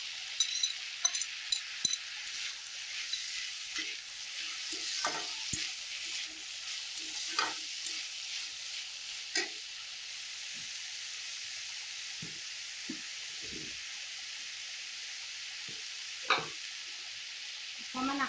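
Potatoes and raw banana peels fry in a pan for an Assamese sabji, giving a steady soft sizzle throughout, dotted with scattered clicks and scrapes as the mixture is stirred.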